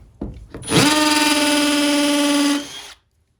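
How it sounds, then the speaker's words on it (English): A Milwaukee M12 FUEL 1/2-inch drill in hammer mode bores a hole, spinning up sharply after a couple of short taps and holding a loud, steady whine for about two seconds before winding down. "let's do another hole right here on hammer mode"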